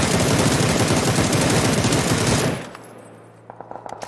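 Sustained automatic gunfire in the battle royale video game PUBG: a loud, dense, rapid stream of shots lasting over two seconds, then cutting off into quiet with a few faint clicks.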